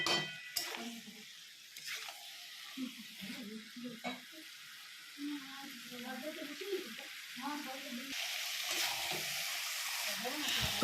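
Shrimp, pointed gourd and potato sizzle with spices in a hot pan, the frying crackle steady under intermittent stirring scrapes and someone talking over it, the sizzle rising brighter toward the end.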